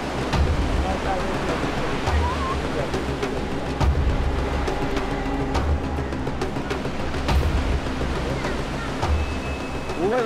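Sea waves breaking half a meter from seaside houses beside an old, degraded protection dike, making a steady, moderately loud wash with occasional sharp knocks and splashes.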